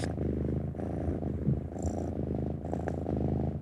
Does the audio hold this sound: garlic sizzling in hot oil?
no